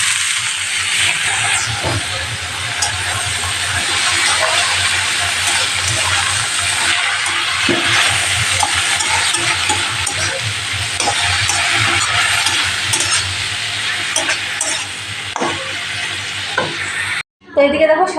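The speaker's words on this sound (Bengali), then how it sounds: "শাকটা দিয়ে দেবো।" Red amaranth greens stir-frying with potatoes in a pan in a home kitchen, a continuous loud hiss and sizzle with repeated stirring scrapes, close up, ending abruptly.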